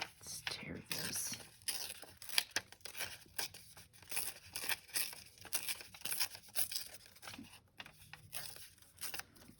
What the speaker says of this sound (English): Let's tear this.